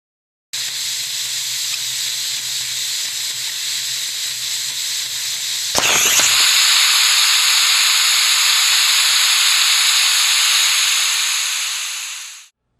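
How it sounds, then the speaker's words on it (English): Loud, steady hiss of air rushing in and out of a glass jar, holding constant for several seconds, briefly jumping in intensity midway, then fading out at the end. "just air entering and escaping"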